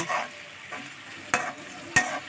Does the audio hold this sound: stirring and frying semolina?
yes